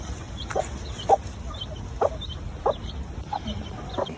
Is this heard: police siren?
no